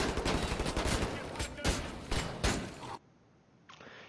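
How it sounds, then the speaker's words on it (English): Shotgun fire in the first-person shooter Wolfenstein: The New Order: loud, dense blasts and booming reports in quick succession for about three seconds, then an abrupt cut to near quiet. "Yeah, the shotguns are really bad in this game."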